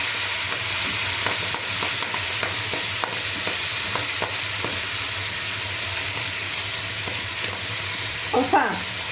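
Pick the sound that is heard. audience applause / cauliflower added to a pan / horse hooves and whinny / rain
cauliflower added to a pan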